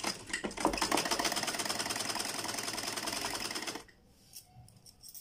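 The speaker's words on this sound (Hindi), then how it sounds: "इस तरीके से हम फोल्डिंग करते जाएंगे और सिलाई लगाते जाएंगे।" A sewing machine stitches folded piping along a round neckline, running in one loud, steady, rapid mechanical chatter for about four seconds before stopping abruptly into quiet.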